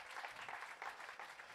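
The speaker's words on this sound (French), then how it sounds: "on peut l'applaudir" A studio audience gives a TV guest a short burst of applause, soft, distant and rhythmic, dense clapping lasting under two seconds.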